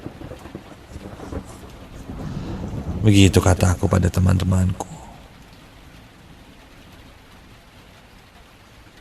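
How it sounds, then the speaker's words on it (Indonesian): Heavy night rain falling with a loud rumble of thunder that swells and fades midway, while someone narrates over the storm. "Tuh kan hujan, gue bilang juga apa?"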